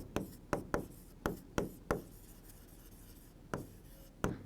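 Chalk tapping and scraping on a board during a biology lecture, a series of sharp knocks at irregular intervals with quiet gaps, no talking.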